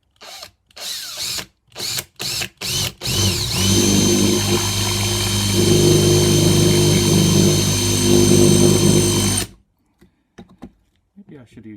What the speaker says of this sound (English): Maybe I should use a smaller drill.